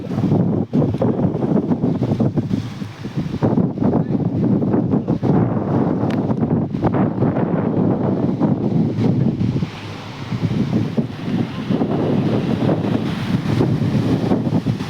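Cold wind sweeps across the seashore at Gomti Ghat, Dwarka, a loud, sustained rumbling gust pounding the microphone for the whole stretch, with the wash of the sea underneath and a brief lull near the middle.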